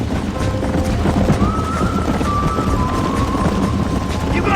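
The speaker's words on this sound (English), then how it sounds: "There's the horses!" Horses neigh and gallop in Red Dead Redemption, with whinnies rising above a steady clip-clop of hooves and outdoor noise while voices speak over them.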